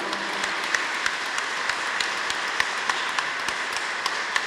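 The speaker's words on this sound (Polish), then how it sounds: "Brawa." A crowd applauding steadily after a concert in a basilica, the claps forming a continuous patter with some sharper individual claps standing out, fairly close.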